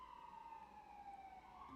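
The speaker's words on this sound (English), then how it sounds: "So we will move on right after this ambulance passes." An ambulance siren wails steadily as it passes, its sweeping tone carrying over constant street traffic noise.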